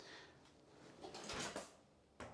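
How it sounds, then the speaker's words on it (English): Soft-close kitchen drawer pushed shut, a soft sliding rumble slowing to a gentle, quiet close, then a faint knock near the end; heard close up in a quiet room. "We've got the soft close drawers"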